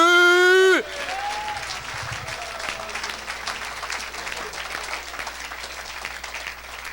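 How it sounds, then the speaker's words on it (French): A church congregation breaks into sustained applause and cheering that fills a large space, starting abruptly after a brief held tone and continuing steadily throughout, with faint voices mixed into the crowd noise. "Est-ce qu'on peut acclamer pour Jésus?"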